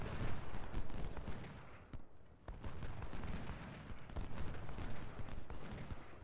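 Guns and artillery firing across a Civil War battlefield in Ultimate General Civil War, a steady distant barrage of cracks and rumbling volleys, fairly quiet, with one sharp nearer shot standing out midway.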